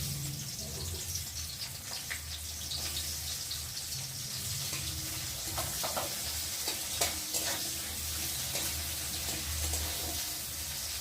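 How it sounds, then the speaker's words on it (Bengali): Onion dropped into hot oil sizzles steadily and close, a dense crackling hiss that runs throughout, with occasional stirring scrapes and clicks layered on top. "তেলটা গরম হয়ে গেছে আর এখন আমি এর মধ্যে পেঁয়াজ দেবো"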